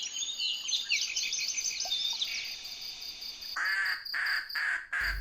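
Birds in a forest give quiet, high chirping calls, a fluttering run of notes early on followed by several louder, evenly spaced calls near the end over faint background hiss.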